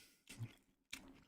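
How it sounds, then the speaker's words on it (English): Two short bursts of wet chewing, close and fairly quiet, separated by a brief pause, with no talking. "That's the sound of me enjoying dinner."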